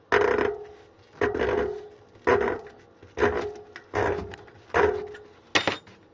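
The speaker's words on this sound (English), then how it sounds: "basically it's got stripped gears inside the motor." An e-bike hub motor with stripped internal gears grinds and clunks in a steady repeating cycle, about six harsh bursts spaced roughly a second apart, close and fairly loud.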